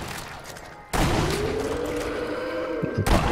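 Rifle gunfire in the video game Sniper Elite: Nazi Zombie Army, a loud sharp report followed by a sustained burst of dense, rumbling shots that runs for about two seconds before another blast cuts in.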